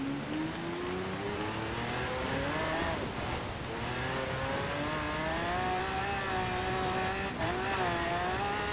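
A car driven in Forza Horizon 4 in a winter festival event, its engine droning steadily and rising in pitch as it accelerates through the gears, loud and continuous.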